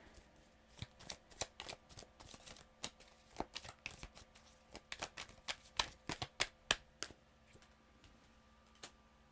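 Tarot cards being shuffled, a quick irregular series of crisp riffling snaps and taps, close and fairly quiet, with no talking.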